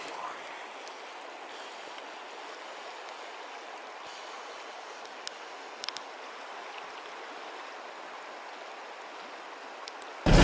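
A widening river on the way to Lake Baikal gives a steady, soft rushing hiss for about ten seconds. A few faint clicks sound over it, and a loud burst comes at the very end.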